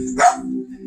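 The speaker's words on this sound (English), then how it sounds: "and that's a dog barking" A single dog bark, fairly close and moderately loud, followed by a low steady hum in the background.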